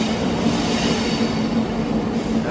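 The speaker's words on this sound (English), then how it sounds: "Behind me, there's Caledonian sleeper that came in this morning." The Caledonian Sleeper train sits at a station in Scotland, giving off a loud, steady rumbling hum of a standing train with a constant low drone and no talking.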